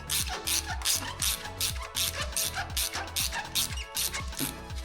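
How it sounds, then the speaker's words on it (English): A standard Subaru hose clamp on a turbo Impreza cooling system being wound off with a ratchet, giving a steady run of close, crisp ratcheting clicks in regular bursts, with no talking over it. "This one is not seized, so it is allowing me to wind it off."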